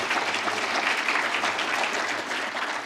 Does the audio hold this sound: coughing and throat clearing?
no